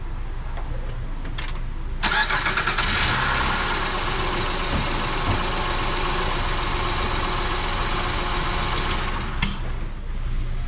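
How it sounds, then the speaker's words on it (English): A car engine starts with a sharp crank, then runs at a steady loud rumble for several seconds before being switched off and dropping back to quieter background. "Stopping the engine."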